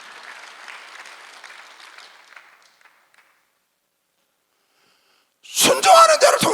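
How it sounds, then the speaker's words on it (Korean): A church congregation at a Korean Sunday worship service breaks into loud, close applause near the end, after a preacher's voice fades out and a few seconds of silence. "박수하세요."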